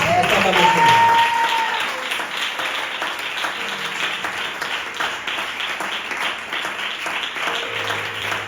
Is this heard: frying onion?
no